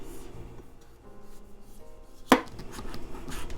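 A knife chops through the end of a butternut squash in one sharp, close cut that lands against the board, followed by quiet scraping and handling sounds.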